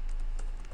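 Computer keyboard pressed for a Ctrl V paste while programming: a few soft, quick key clicks over a low background hum.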